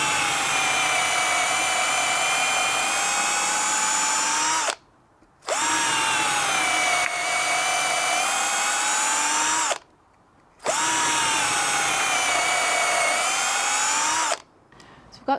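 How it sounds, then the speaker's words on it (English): A power drill bores holes of different sizes into wood for an insect hotel, whining loudly in three long, sustained runs with its pitch dipping slightly under load and brief silences between the bursts. "I'm going to drill some holes of different sizes into this"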